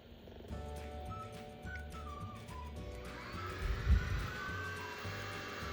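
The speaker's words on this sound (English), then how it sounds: "Turn it on and let the propeller reach the full speed." Propeller of a flying spinner toy spinning up to full speed, a whirring hum that rises into a faint whistling whine, close and fairly quiet, no talking.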